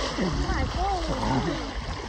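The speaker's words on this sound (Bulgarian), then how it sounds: "Айде на 3 се потапиме" People plunge together into cold sea water after a morning workout, a brief splash and sloshing water under excited voices and shouting.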